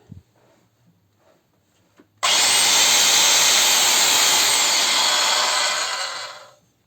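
A Ronix 4311 circular saw switches on abruptly and runs at full speed with a loud, steady high-pitched whine for about four seconds, then spins down, following a few quiet clicks and handling sounds.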